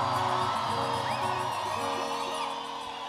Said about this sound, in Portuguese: Quem tá gostando, dá um gritão!